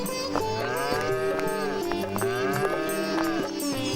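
A pair of bulls in a Hindi animated village story moo in long, deep, drawn-out calls that overlap one another, loud and close over soft background music, with no speech.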